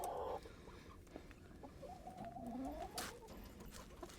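Hens in a coop on new roosting bars give soft, drawn-out clucks and low warbling calls, close and fairly quiet, with faint rustling and a brief knock.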